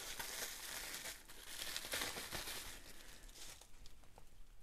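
Plastic bag packaging around a replacement Makita drill motor for a DX01 dust extraction unit rustles and crinkles faintly but steadily at close range, with no talking.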